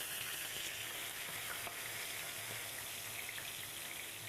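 Curry leaves fry in tempering oil with dried red chillies and asafoetida for a mango-ginger pickle, a soft continuous sizzle and faint crackle, steady and fairly quiet with no voices.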